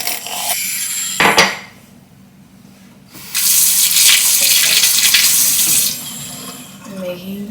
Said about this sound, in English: I'm making some coffee now, or I'm pouring me some coffee.